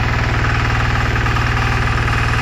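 A new walk-behind tractor's engine idles steadily beside a raspberry patch, with a close, loud, continuous low chugging throb and no talk.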